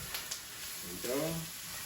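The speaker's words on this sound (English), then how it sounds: "what you're going to want to do is saute them with some salt" Onions saute with salt in a pan, giving a faint, steady sizzle under a brief murmur of a voice near the end.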